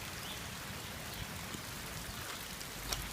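Steady rain pours down over a North Texas rain garden during a spring shower, with runoff spilling hard over an overflow; a dense, even hiss of drops fills the scene with no voices.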